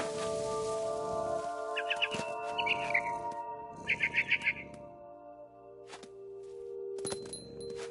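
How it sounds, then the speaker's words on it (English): A barn swallow chirps in several short twittering bursts in the game What Remains of Edith Finch, close and clear over a quiet low ambient drone and steady tones. "Then I heard chirping outside my window. It was a barn swallow going back to her nest."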